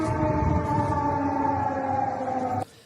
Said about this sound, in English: Air sirens are in operation.